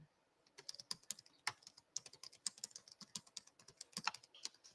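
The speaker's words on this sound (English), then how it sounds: "I'm just typing it in the chat" Rapid, irregular clicking of keys on a computer keyboard, close and fairly quiet, in uneven bursts with short pauses.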